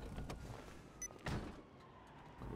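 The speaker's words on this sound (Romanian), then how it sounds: "Am închis mașina." A car in GTA V is locked with a quiet electronic chirp amid soft mechanical clunks and a dull thump, faint and close under low background noise, without talk.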